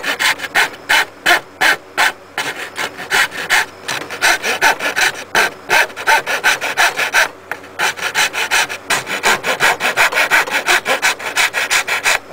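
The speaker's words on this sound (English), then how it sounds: "Want to file between these little gaps until it gets level with the other ones." A hand file rasps across a carved wooden inverted wind turbine prop in quick back-and-forth strokes, loud and close, with short pauses between bursts of scraping.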